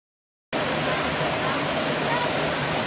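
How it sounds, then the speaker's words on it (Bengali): Bamni Falls in Purulia rushes as a dense, steady roar of falling water that starts abruptly after a moment of silence and stays loud and even. "এখান থেকেই তো বেশ ঝর্ণার শব্দ শুনতে পাওয়া যাচ্ছে"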